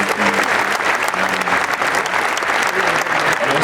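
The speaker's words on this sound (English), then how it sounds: "if we can get a round of applause for them for being here in his honour as well" A press-conference audience at Mr. Olympia 2017 gives a round of applause, dense and steady clapping that fills the whole stretch at close, loud level with no break.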